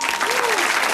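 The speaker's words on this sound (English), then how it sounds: "Somebody's applauding you down there anyway" Applause from a studio audience at a television game show, a brief spell of steady clapping with a voice faintly audible underneath.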